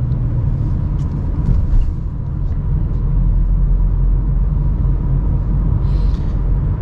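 A Subaru XV accelerating under adaptive cruise control produces a steady low engine and road rumble from inside the cabin, continuous and moderately loud, with faint occasional clicks.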